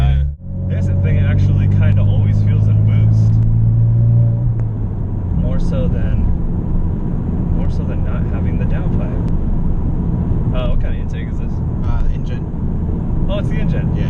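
A 6th-generation Chevrolet Camaro convertible with a V6 and 2.0 intake drones loudly and steadily while driving, its engine note shifting as revs change, with people talking over it throughout.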